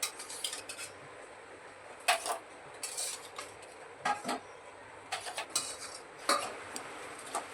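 Plates holding freshly made sabudana papad are lifted off one by one, giving clinks and clatters of metal plates and utensils at close range in irregular bursts, with no talk.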